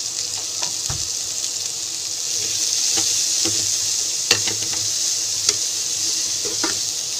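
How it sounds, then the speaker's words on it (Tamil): Sliced onions sauté in a pan for veg shawarma, a steady close sizzle running throughout with scattered soft clicks and scrapes of stirring. "வதக்கி விட்டுக்குவோம்."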